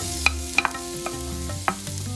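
Shallots and fresh curry leaves fry in a pan with a low sizzle, punctuated by several sharp clinks and scrapes of a spoon stirring against the metal.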